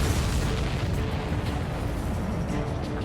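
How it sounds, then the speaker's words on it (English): A video game explosion in Ace Combat 7 Skies Unknown, a deep sustained boom with low rumble that fills the whole stretch at steady loudness, with no voices over it. "Did you see that explosion?"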